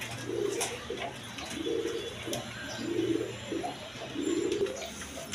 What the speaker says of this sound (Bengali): দর্শকবৃন্দ এইখানে এক পেয়ার কবুতর আছে